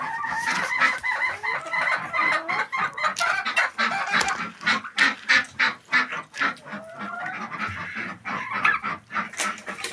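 Domestic hens in winter cluck and squawk in a busy flock, with overlapping calls and a few louder crowing-like cries standing out near the listener throughout, with no talking.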